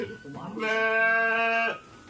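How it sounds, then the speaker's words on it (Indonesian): A single sheep gives one loud, drawn-out bleat lasting about a second on a livestock farm in a cold highland village in West Java, with faint voices just before it. "Itu ada ternak domba."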